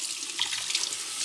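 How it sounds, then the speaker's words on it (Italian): Tap water runs steadily into a sink as paper towels are soaked, a continuous close hiss and splash with no talking. "adesso li imbeviamo per bene con l'acqua"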